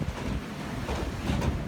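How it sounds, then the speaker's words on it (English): Strong wind gusting straight into the microphone outdoors, a loud low roaring buffet that swells and dips over a couple of seconds, no talk. "It's too windy."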